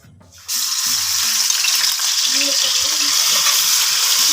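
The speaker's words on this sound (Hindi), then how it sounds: "अदरक और लहसुन के पेस्ट को हम 2 से 3 मिनट तक फ्राई करेंगे" Ginger garlic paste hits hot cooking oil and erupts into a loud, steady sizzle that holds strong after a brief quieter moment at the start, with faint clinks beneath.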